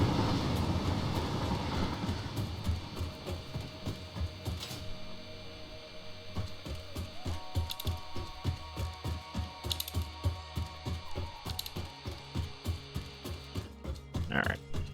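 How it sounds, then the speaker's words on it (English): Aluminum freight train in the video game Satisfactory rolling by, a long run of rhythmic clacking wheel and mechanical ticks with humming tones, building up close and fading, no speech. "There goes the aluminum train."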